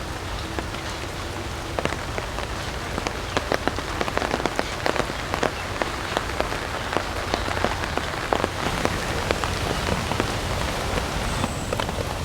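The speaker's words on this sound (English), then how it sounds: "that rain is getting heavier" Rain falls on leaves and surfaces in Pasir Ris Park, Singapore, growing heavier as a dense, continuous patter of close drops with frequent sharper taps, and no talking.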